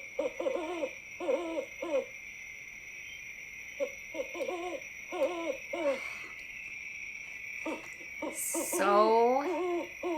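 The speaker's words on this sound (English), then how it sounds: "I did go ahead and pick up the owl blow mold animatronic guy" An owl blow mold animatronic Halloween decoration hoots in repeated short electronic phrases over a steady high-pitched whine, followed by a rising, warbling electronic sound effect near the end.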